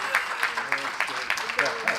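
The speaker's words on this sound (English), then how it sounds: "Ladies and gentlemen, a huge round of applause for Dr." Applause from an audience at an inaugural ceremony, heard beneath a voice that speaks over the clapping throughout these two seconds.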